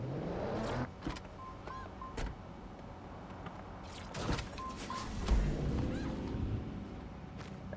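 A car being hijacked in Watch Dogs Legion: door clunks, sharp thumps and the hum of a vehicle and electric window motors, with several distinct impacts over a low engine bed.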